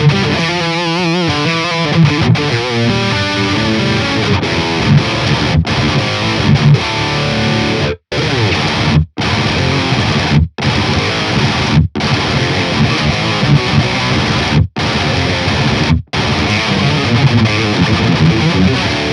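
Distorted electric guitar through an amp plugin preset, heavy saturated riffing with short chugging bursts broken by abrupt stops, loud and upfront with no talk.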